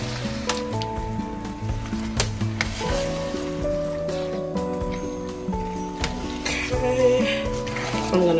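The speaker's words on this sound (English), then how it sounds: "I'm gonna mix this up to see how saucy it is" A spoon stirs Prego meat sauce in a pot for meat-lovers lasagna, giving soft wet squishing and faint sizzle beneath steady background music, with no clear speech.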